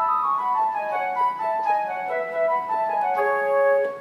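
Korg Kross keyboard playing a flute patch with the damper not pressed, giving a clear, breathy melodic line of sustained notes that is loud and close, with no talking.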